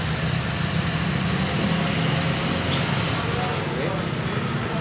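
An engine runs steadily with a low rumble while revved for an RPM check, joined by a high whine that drops away near the end, loud and close, with a voice speaking over it.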